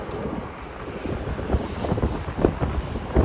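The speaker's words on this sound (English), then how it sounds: "It is windy and loud here" Steady wind buffeting an outdoor microphone on a Manhattan street in New York City, a continuous low rumble with gusty swells, loud and close, no voices.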